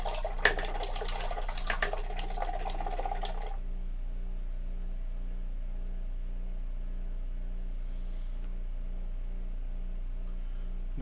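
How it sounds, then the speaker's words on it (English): A paintbrush is rinsed in running water, giving a few seconds of close splashing and flowing water that stops abruptly, leaving a steady low hum. "Let's give that a quick rinse."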